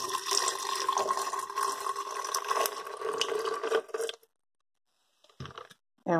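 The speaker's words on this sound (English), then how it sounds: "now we're going to add it to the ice, being careful because it's super hot to pour it directly on the ice." Hot sugar syrup pours steadily onto ice, a continuous splashing, gurgling stream for about four seconds that stops abruptly, followed by a couple of short faint splashes.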